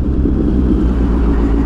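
Morning road traffic rumbles low and steady nearby, a continuous deep engine drone with no distinct passing vehicles standing out.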